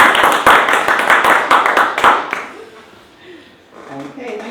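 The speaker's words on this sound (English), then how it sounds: "Shall we start with a round of applause?" A small audience claps in a short round for about two seconds, the clapping fading out before voices speak over a quiet room.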